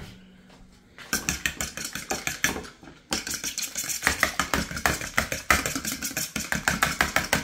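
Egg wash mixture with a little water mixed briskly in a bowl, fast rapid rhythmic clicking strokes, close and loud, with a brief pause before the whisking resumes.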